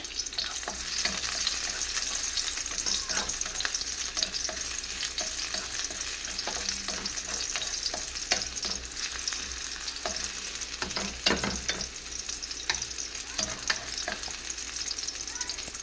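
Garlic sizzles in hot oil in a pan while being stirred, a dense steady crackle broken by irregular scraping strokes of the utensil, moderately close and with no voices.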